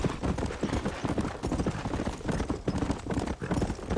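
Horse hooves clip-clop steadily in Red Dead Redemption, a brisk galloping rhythm of dense, close thuds that carries on continuously.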